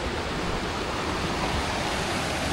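Rock Run Falls waterfall plunges into a deep pool, a constant, full roar of rushing water heard close and loud, with no talking.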